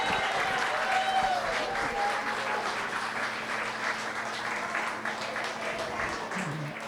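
Wedding guests give a sustained round of applause after a toast, dense clapping with some faint cheering and murmured voices at a reception, a low hum running underneath.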